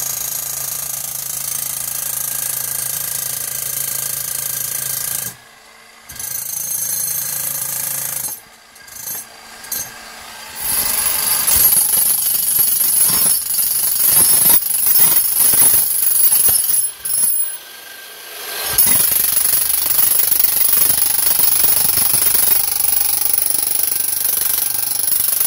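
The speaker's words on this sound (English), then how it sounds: "We're still chiseling away." Chiseling through a cement floor to reach a hidden safe in a house, with a power chisel hammering loudly and continuously for long stretches, broken by brief pauses and short bursts of scraping and knocking.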